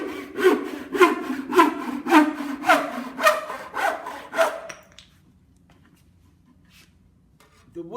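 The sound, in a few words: back saw cutting wood in a miter box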